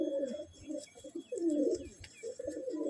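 Several Madrasi/Andhra pigeon coos rise and fall in soft rolling phrases, close by, with faint chirps and light rustling in the background.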